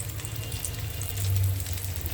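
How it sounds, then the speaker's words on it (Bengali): An omelette fries in a pan with a faint, continuous sizzle and soft crackle, with no voices over it. "তো দেখুন সো কালারফুল আমলেটটা ভাজা হচ্ছে"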